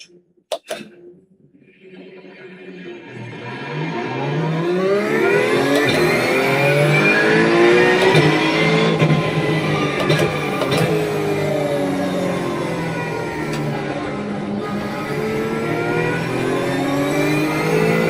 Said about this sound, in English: we are in iRacing. This is a Suzuka circuit. The car is a Porsche 992